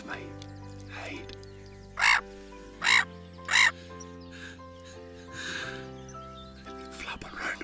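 A few loud, harsh gull calls from directly overhead on top of a floating bird hide, three sharp cries in quick succession, with a person speaking softly before and after.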